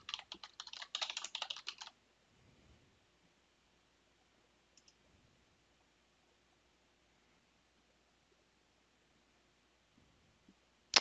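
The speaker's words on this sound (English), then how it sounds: "we'll type in a resource group." A computer keyboard is typed on in a quick burst of close clicking keystrokes lasting about two seconds, then near silence with a few faint clicks and a final sharp click.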